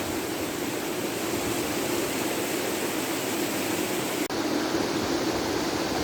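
Le saut des Trois Cornes waterfall in Guadeloupe pours down beside a river, a continuous, full rushing roar heard up close and steady throughout, broken only by one tiny dropout.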